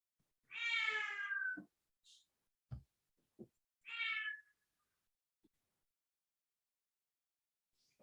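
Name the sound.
young cat meowing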